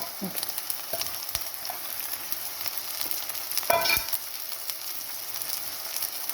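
Mint and spring onion greens frying in biryani masala in a pan, a steady crackling sizzle with a few spoon scrapes and taps, one louder stir near the middle.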